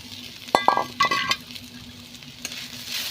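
Bitter gourd pieces dropped into a hot pan of spices for a home-style curry set off a close sizzle, with clinks and scrapes of a utensil against the pan, then steady frying hiss.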